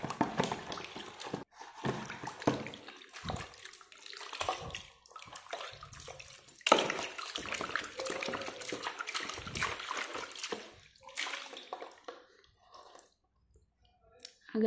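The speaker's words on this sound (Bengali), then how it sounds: "তো চলো আমি এটা একবারে ধুয়ে নেব।" Close splashing and sloshing as old artificial flowers are swished and rinsed in a tub of water, in irregular bursts with short quiet gaps, trickles and small clicks between, no talking.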